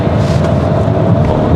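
A 2022 Peugeot 3008 GT's 1.2 PureTech petrol engine revs up in standard mode, a steady, loud, broadband drone with deep low rumble throughout, heard alone without talk.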